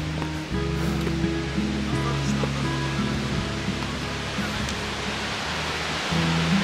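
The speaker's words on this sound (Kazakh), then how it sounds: "Мына жақта өзен ағып жатыр, су ағып жатыр." A river rushes through the mountains near Almaty, Kazakhstan, making a steady, loud broadband roar of flowing water with a low rumbling undertone. It continues without a break and no one speaks.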